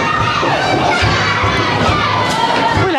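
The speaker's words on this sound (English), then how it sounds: "The crowd are gone mad." A crowd roars and shouts wildly after a Cork Junior C football championship final, loud, continuous cheering and yelling from many voices, close and unbroken throughout.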